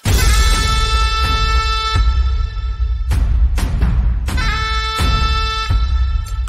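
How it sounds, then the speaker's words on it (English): A loud synthesized air-horn-like blast from the Kontakt Factory Library in a Goa EDM track, bright stacked tones sounding twice with a short burst of percussive hits between, over a heavy low rumble. "that little thing, it almost sounds like an air horn."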